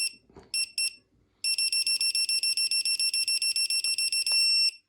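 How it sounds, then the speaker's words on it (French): Rapid repeated electronic beeps from a cheap four-channel radio transmitter, a few short bursts then a steady train of sharp high-pitched tones, loud and close with no talking. "avec un bip pour le maximum et une pause au centre"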